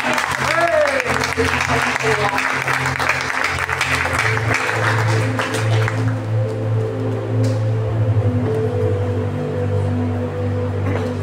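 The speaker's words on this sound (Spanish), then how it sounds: "Usted brinde un fuerte aplauso al Señor." A church congregation claps loudly over sustained keyboard music, and the applause fades after several seconds while a voice speaks.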